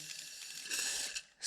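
A sustained, hissing WD-40 aerosol spray into a flooded Yamaha FZ6 Fazer engine runs steadily for over a second, briefly pauses, then bursts again loudly at the end.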